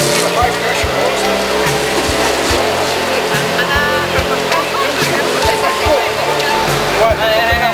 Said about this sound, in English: High pressure hose.